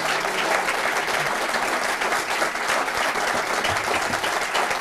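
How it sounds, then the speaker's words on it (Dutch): Sustained applause from a studio audience at a Dutch talk show with author Jan Brokken, a dense, steady wash of many hands clapping at even loudness with no break throughout. "Dank u wel, een lange applaus."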